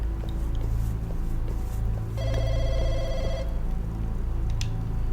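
A public telephone in the game Firework rings once in a steady electronic trilling burst, heard over a constant low rumbling background.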